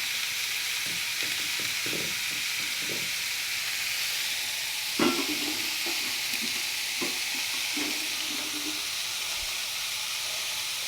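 Sliced onions sautéing in a pan with a pinch of salt, a steady sizzling hiss throughout with occasional stirring scrapes and a louder clatter midway, no voices.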